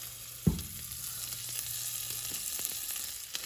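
Oxtails dropping into hot oil for browning set off a sharp sizzle that settles into a steady, close crackle, with a few light clatters of pieces being added.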